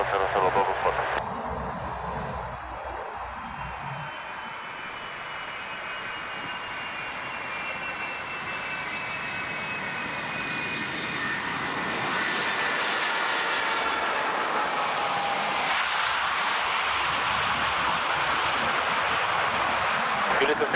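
A DHL Boeing 757 jet lands in Guatemala, a sustained loud engine roar with a steady whine that builds toward the end, with brief radio voices at the start.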